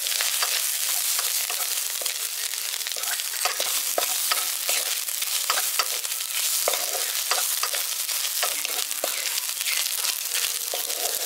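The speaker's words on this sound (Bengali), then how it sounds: "নারকেল কোড়াটা আমি হালকা করে একটু ভেজে নিচ্ছি।" Grated coconut fries lightly in oil in a pan for a village-style potato curry, giving a steady close sizzle with scattered stirring scrapes and crackles throughout.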